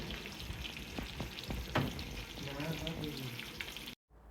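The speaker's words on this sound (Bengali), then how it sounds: "এখন আমি গ্রিলে দেব একটু ক্রিস্পি হওয়ার জন্য। গ্রিল অন করলাম।" Chicken crisping under an oven grill sizzles steadily and close, with a few soft clinks, before the sound cuts off abruptly near the end.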